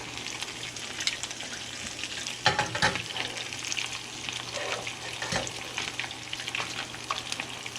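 Chicken taquitos fry in plenty of hot oil with a continuous bubbling crackle. Louder spatters and clatters break through now and then, heard close without voices.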